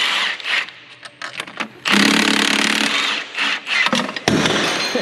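An impact wrench hammers in loud bursts on engine bolts of a John Deere 6090 engine from an 850J dozer, several short rattling runs and one long run, close by with no talk.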